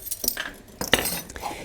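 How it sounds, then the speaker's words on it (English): A spoon clinks against a bowl while maple syrup is added to a seed bark mixture, with a few quick, bright metallic taps and scrapes heard up close and without any talking. "now we put in 2 tablespoons of maple syrup"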